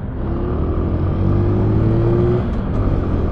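A Vespa GTS scooter engine idles and runs close by, a loud, steady low rumble with a faint rising whine, heard without speech.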